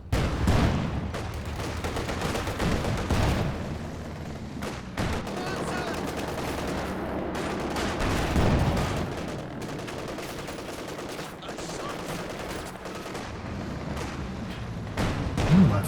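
LMG machine gun fire and other battle noise in a Company of Heroes 2 2v2 match, with steady rattling bursts and occasional heavier booms rolling on continuously at moderate loudness.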